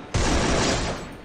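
A loud, close burst of rapid gunfire in a solo-versus-squad shooter game rattles out in a single dense volley, then tails off.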